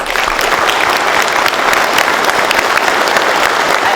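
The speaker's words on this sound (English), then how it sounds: "Let's have one more round of applause for all of our awardees." Audience applause for awardees at a police department honor awards ceremony, a loud, dense, continuous wash of clapping from a large crowd with no talking.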